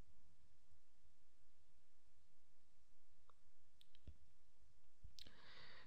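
A computer mouse clicks a continue button on a store submission web page, giving a few quiet, isolated clicks spaced over several seconds against faint room hiss.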